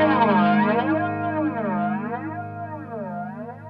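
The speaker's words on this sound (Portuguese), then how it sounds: "Você percebe que você começa a escutar mais o volume do flanger paralelo ao volume da guitarra" Electric guitar chords played through a flanger with its feedback turned up high, producing a sustained, distorted tone that sweeps up and down in slow, swirling waves for several seconds.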